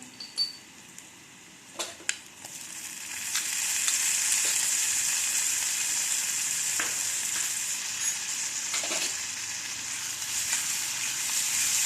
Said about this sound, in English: Cook them well, stir them nicely in this nice hot oil